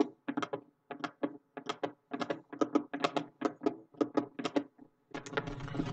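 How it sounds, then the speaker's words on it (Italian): A repaired vintage QuickShot joystick clicks over and over in quick, fairly even bursts, crisp and close, with a busier rattling flurry of clicks at the end and no talking. "Sentite il click?"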